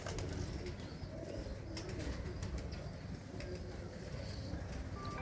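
Pigeons coo softly amid a busy flock, with scattered chirps and wing flutters over a dense, steady background.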